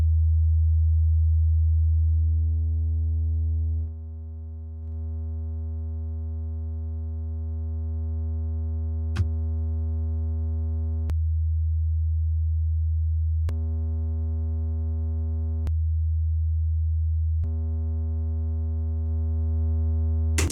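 A steady 80 Hz sine tone hums alone, then grows buzzy and harsh as compressor distortion adds a stack of overtones, with a few sharp clicks along the way.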